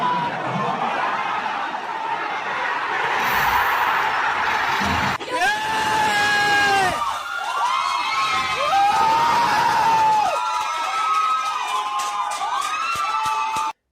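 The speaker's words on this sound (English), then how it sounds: "live reaction videos of people at bars cheering for this moment" People at bars erupt in loud screaming and cheering together, a dense crowd roar with whoops and shrieks rising and falling over several seconds, ending abruptly.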